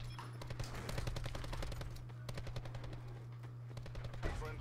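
Swordfish burst rifle fired in Black Ops 4, heard as rapid clusters of sharp shots repeating steadily over a low electrical hum.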